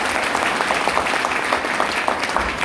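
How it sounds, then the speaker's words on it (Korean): An audience at a Korean defense and security forum applauds after a speaker is introduced, with sustained, even clapping throughout and no talk over it. "박수 한번 해주시죠."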